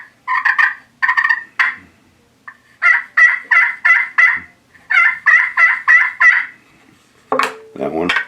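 A turkey call yelps out in quick rhythmic bursts of three to five notes, loud and close, ending in a raspy gobble-like flourish.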